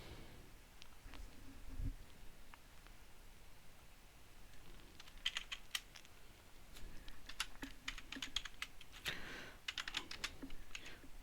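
Rapid clatter of computer keyboard typing in irregular bursts, close and fairly quiet over a faint steady hiss, with a denser flurry of keystrokes toward the end.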